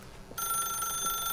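A telephone rings in the video game The Stanley Parable, a sudden, steady electronic bell tone that cuts in after a faint quiet stretch and holds continuously at moderate loudness.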